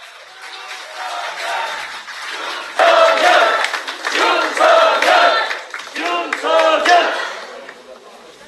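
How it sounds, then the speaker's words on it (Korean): A crowd at a presidential campaign rally in Busan welcomes the candidate with loud, rhythmic cheering and chanting. Bursts of crowd voices rise and fall in waves, mixed with scattered clapping. "뜨거운 박수로 환영해 주십시오"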